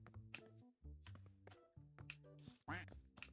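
A duck quacks in a video game, a short sharp call that arrives near the end among busy game sound effects and harmonic tones, with no talking.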